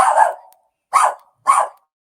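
A dog gives three sharp barks, close and loud: one longer opening bark, then two short ones after a pause, with silence between and no talk.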